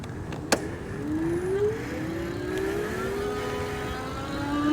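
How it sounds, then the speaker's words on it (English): An Eskute C100 electric bike's motor accelerates on twist throttle, its whine climbing steadily in pitch over a bed of rolling wind and road noise, close and moderately loud. "Now I'm just gonna use the twist throttle and see how fast I can go."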